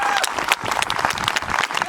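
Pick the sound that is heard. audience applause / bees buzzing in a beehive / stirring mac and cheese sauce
audience applause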